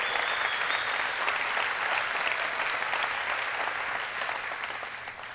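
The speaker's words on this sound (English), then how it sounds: "Give them a big applause." A large audience claps steadily and loudly for several seconds, the applause fading slightly at the end.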